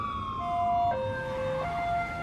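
A loud siren wails nearby in stepped, falling and rising tones over a low traffic rumble.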